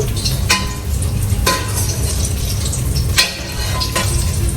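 Apple fritters fry in hot oil with a steady bubbling sizzle close by, broken by a few sharp clicks and knocks as pieces are moved or lifted out.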